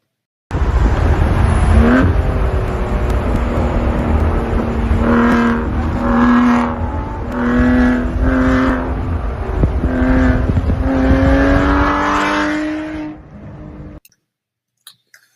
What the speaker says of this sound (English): I'm going to play you a video of my Aston Martin so you can hear how fucking sexy it sounds